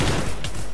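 Gunfire in the Minecraft OmegaZ mod, a loud, dense burst of rapid shots opening the moment, then easing into a brief sharp crack and fading rattle.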